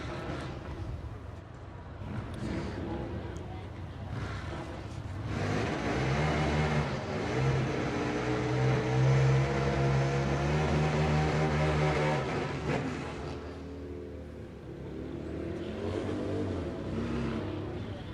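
Harley-Davidson motorcycles racing at a drag strip, a V-Rod slick-and-bar bike and a 2005 Sportster, their engines building to a loud, sustained rising roar mid-clip before easing off.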